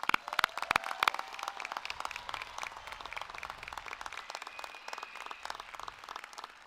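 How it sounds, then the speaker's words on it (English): An audience at a high school graduation ceremony for the Class of 2024 claps steadily, a fairly faint, distant patter of many hands that continues evenly throughout. "Let's give them a round of applause."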